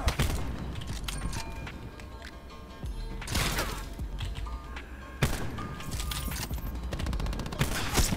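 Sniper-style long-distance gunfire in Black Ops 4 rings out as several separate loud shots, each with a short echoing tail, spaced a few seconds apart over steady background game noise.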